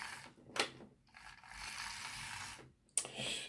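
Small Lima model locomotive running on a test track, a quiet whirring and clicking mechanism in short bursts separated by pauses, with a couple of sharper ticks.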